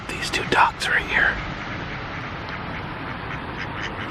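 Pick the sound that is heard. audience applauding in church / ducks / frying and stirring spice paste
ducks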